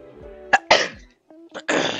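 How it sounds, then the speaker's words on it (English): A person sneezes twice at close range, two sharp breathy bursts with a short gap between them, nearly alone apart from faint background hum. "Do you sneeze again?"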